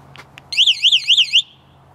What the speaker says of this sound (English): Whoa, that is a loud alarm system.